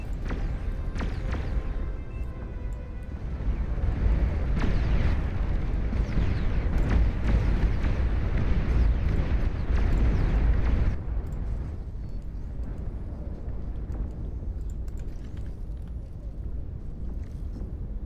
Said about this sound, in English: Long-range plasma cannons are targeting the units.